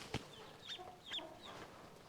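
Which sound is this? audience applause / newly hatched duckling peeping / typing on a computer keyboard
newly hatched duckling peeping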